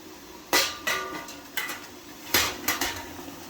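A metal steamer basket going into a pot of boiling water on a stovetop, with about five sharp metallic clanks and rattles close by and a quiet gap between them.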